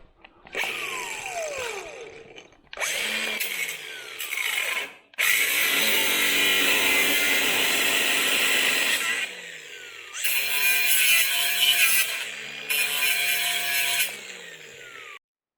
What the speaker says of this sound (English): So next I'm gonna cut those bolts off. We got a cut-off wheel over here.